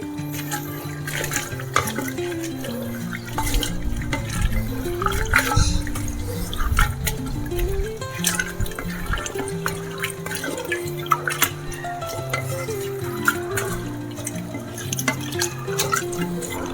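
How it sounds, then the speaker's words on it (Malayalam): Pickled vegetables get stirred in their vinegar brine, wet sloshing and dripping liquid sounds with small clinks, close and steady, no talking. "ഇളക്കി കൊടുക്കാം."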